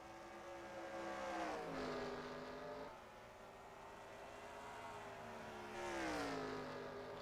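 Two race cars battle side by side at Bristol in a racing video game, their engines whining and revving in rising and falling sweeps, loud and continuous across the stretch.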